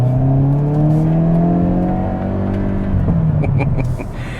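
2023 Hyundai Kona N crossover in N mode accelerating hard, a loud close engine note with rising whine and rumble through the gears, a shift around three seconds, then crackling exhaust pops; no talking.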